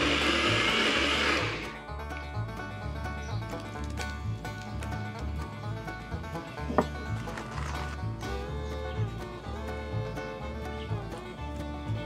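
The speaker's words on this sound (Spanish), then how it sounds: "A la licuadora y licuamos." A blender whirs loudly and steadily, with a harsh high burst at the start that settles into a churning motor hum with rhythmic pulsing, blending a creamy avocado green sauce.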